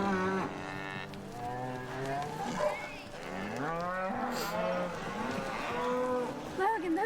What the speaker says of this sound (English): Here, those are real cows, Logan.